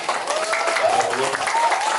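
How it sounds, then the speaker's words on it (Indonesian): Lively audience applause at a community cultural gathering, a dense, steady patter of many hands clapping throughout, with faint whistles and voices mixed in. "tepuk tangan yang meriah"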